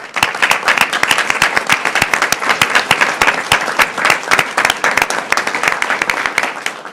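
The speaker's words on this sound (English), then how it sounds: "I'd like to give one more round of applause for all of our award winners tonight." A room full of people gives a sustained round of applause for award winners at a school board of education meeting, with dense, steady clapping that stays loud and even for several seconds.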